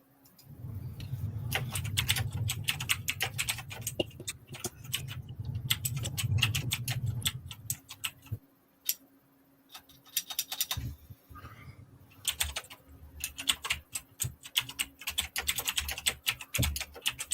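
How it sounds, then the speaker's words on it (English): Rapid, continuous clatter of keys on a computer keyboard, with a low hum under the first half, then lighter, more scattered keystrokes. "I can't hear you over the keyboard"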